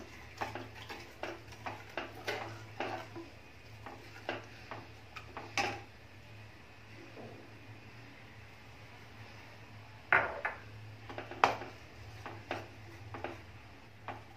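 Milk powder being mixed into milk in a pot, heard as a quiet run of light, irregular ticks and taps of a spoon against the vessel over a low steady hum, close by with no voices.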